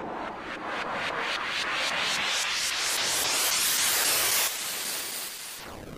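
Loud steady white noise through a flanger effect in Ableton Live, its whooshing comb-like sweeps rising and falling repeatedly, ending in a fast swirl.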